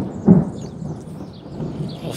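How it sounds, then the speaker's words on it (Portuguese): Thunder rumbles over a dense Brazilian forest before rain, a low, steady rolling roar with a brief louder swell near the start, fairly loud and continuous, no voices. "Olha os trovões aí, galera,"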